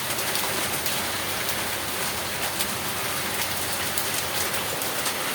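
Heavy rain mixed with small hailstones pours down steadily in São Paulo, a dense, constant hiss of drops pelting surfaces close by, with no voices.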